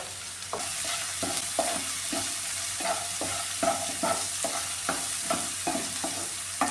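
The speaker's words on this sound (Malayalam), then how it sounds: "ഉള്ളിയൊക്കെ ഒന്ന് വഴന്ന് വരാൻ കുറച്ച് ഉപ്പ് ഒന്ന് ചേർത്ത് കൊടുക്കുകയാണ്" Onions sautéing in a pan with salt and turmeric for a tuna dish, a steady sizzle broken by regular scraping stirs of a spoon, close and fairly loud, with no talking.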